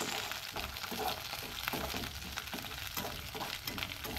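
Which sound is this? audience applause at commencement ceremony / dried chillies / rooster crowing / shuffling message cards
dried chillies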